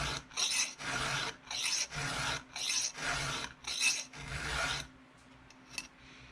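A hand file sharpening a chainsaw chain tooth, with five rhythmic rasping strokes close by, each about half a second long, followed by a quieter pause with faint clicks.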